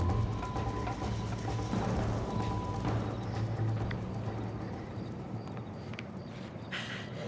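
Horse hooves pound in a fast, continuous galloping rhythm in Red Dead Redemption, close and steady throughout, with faint bird calls over the open-country ambience.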